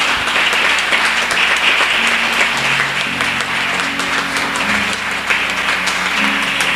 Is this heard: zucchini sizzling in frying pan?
no